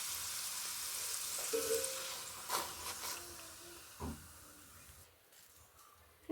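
Puri frying in hot oil in a small pan gives a steady close sizzling hiss, broken by a few soft clinks and stirring taps, and fading toward the end.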